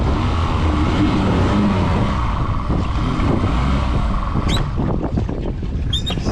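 Alumiweld jet boat with a Yamaha F175 VMAX outboard runs steadily after a choked restart, a broadband engine roar mixed with wind buffeting on the microphone, staying loud throughout.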